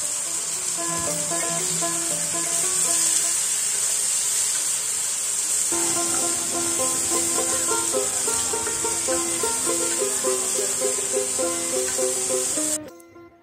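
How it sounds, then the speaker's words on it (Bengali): A chopped medium-sized onion frying in hot oil gives a steady, bright sizzle and hiss throughout, with background music playing over it, before cutting off abruptly at the end. "ওই একই তেলের মধ্যে একটা মিডিয়াম সাইজের পেঁয়াজ কুচিয়ে দিয়ে দিলাম।"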